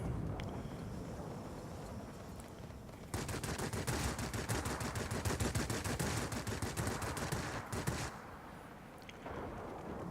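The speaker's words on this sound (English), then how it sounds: "Now, this has three 23 millimeter machine cannon on it, and they're very flat shooting" A Yak fighter's three 23 mm machine cannons fire in a flight combat video game, a long rapid burst of dense pounding shots lasting several seconds, framed by engine drone before and after.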